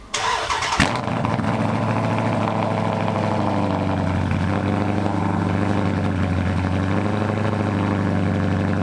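A HEMI V8 car engine cranks and fires within the first second, then settles into a loud, steady, rumbling idle that runs unbroken for the rest of the stretch, with no talking over it.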